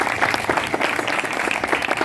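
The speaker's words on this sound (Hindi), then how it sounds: "इसके लिए ज़ोरदार तालियां बजाएं" A congregation gives hearty applause for a young worship singer, a brief, dense burst of clapping that is loud and continuous throughout.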